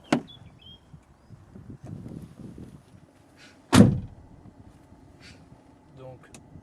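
A driver climbing into a truck cab during a full pre-drive inspection for a heavy vehicle licence, with a sharp door clunk near the start and a louder solid door slam midway amid quiet shuffling and faint cab noises.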